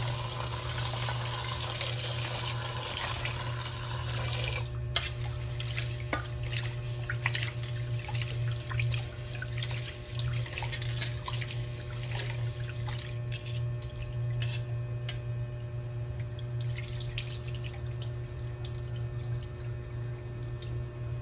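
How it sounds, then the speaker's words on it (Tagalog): Water runs and splashes while freshly milled rice is washed, a steady close trickle with small clinks and swishes over a constant background hum. "kailangan talaga hugasan ng maigi. Mga bagong giniling na bigas."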